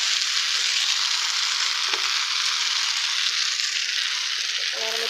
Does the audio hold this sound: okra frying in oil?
yes